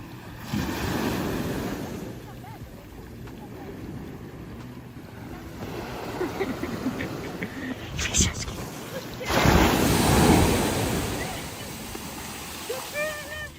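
Ocean waves wash onto a beach with steady surf and wind buffeting the microphone, a louder wave swelling near the end; voices talk faintly at times.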